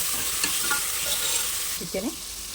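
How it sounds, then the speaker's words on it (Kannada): Beetroot palya sizzles and fries in a pan while a spoon stirs it with soft scraping strokes, steady and close, with no talking. "ಚೆನ್ನಾಗಿ ಫ್ರೈ ಮಾಡ್ತೀವಿ."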